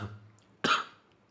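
A single short cough, sharp and close, comes from a man with a fever and cold, preceded by a brief breath with no talk.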